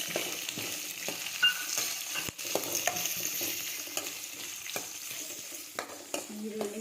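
Chopped onions frying in a pan, a steady close sizzle with frequent spatula scrapes and stirring clatter throughout.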